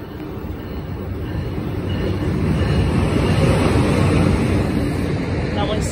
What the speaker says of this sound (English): Now we see a Pascal Valley line train to Spring Valley.